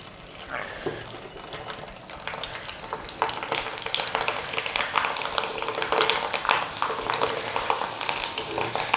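Semolina kurdai, the rava version of the crispy Maharashtrian fritter, frying in hot oil: a steady bright sizzle that builds and crackles more densely in the second half, close and continuous with no voices.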